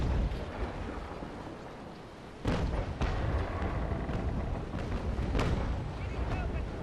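Heavy cannon fire from a sailing warship in the video game Naval Action, with loud booming blasts and roaring rumble over a constant background of wind and sea noise.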